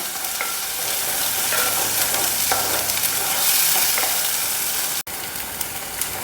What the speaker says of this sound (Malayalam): ഒന്ന് ഇളക്കി കൊടുക്കാം. ഈ അരപ്പൊന്ന് ചെറുതായിട്ടൊന്ന് മൂക്കണം.